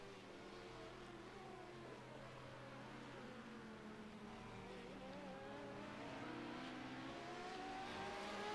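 In a racing game at Sebring, an LMP2 race car's engine drones as a steady harmonic whine that slowly grows louder as the car approaches.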